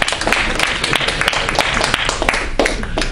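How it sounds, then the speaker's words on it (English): Audience applause at a panel event marking the anniversary of the Egyptian Revolution, a steady wash of many hands clapping close and loud throughout, with no voices over it. "Should we give our audience an applause here?"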